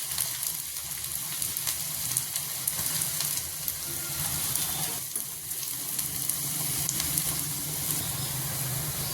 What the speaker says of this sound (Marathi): थोडासा मी उभा चिरला कांदा फ्राय करून घेते